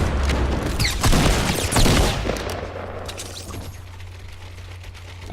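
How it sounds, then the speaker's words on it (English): Rapid minigun fire in Fortnite, a dense rattling burst of shots that runs loud for about two seconds, then eases off into quieter background game noise. "I spotted this guy with his minigun out"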